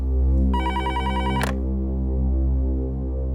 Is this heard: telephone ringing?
yes